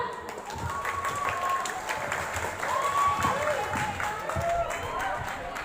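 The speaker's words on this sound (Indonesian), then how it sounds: "Boleh tepuk tangan dulu dong." Audience applause at a school literacy event, a sustained spread of clapping with murmuring voices and faint cheers underneath, moderately loud throughout.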